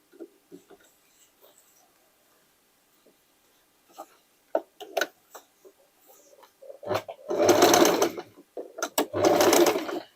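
A sewing machine runs a triple zigzag stitch through denim, starting with scattered quiet clicks and short tentative bursts, then two sustained loud stitching runs close to the microphone.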